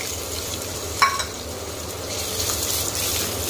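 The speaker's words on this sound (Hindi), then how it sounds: "अब हम इसमें अपना चॉप किया हुआ प्याज डालेंगे" Chopped onion going into a hot kadhai of roasted cumin, a brief burst of sizzle near the start settling into a steady, soft frying hiss with faint stirring.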